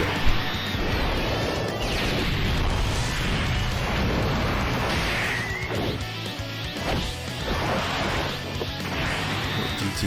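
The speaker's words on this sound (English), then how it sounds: "GT Gatling gun action." The GT Gatling gun attack in Dragon Ball Z Dokkan delivers a loud, sustained barrage of crashing, thudding impacts and blasts. Whooshing sweeps rise and fall throughout, and no voices are heard.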